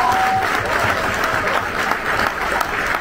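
An audience at an event honouring javelin gold medalist Neeraj Chopra gives a dense, steady round of applause that carries evenly from start to finish.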